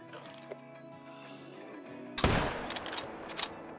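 A single loud hunting rifle shot fired at a deer cracks out partway through after a quiet woodland stretch, followed by a few fainter knocks and rustles.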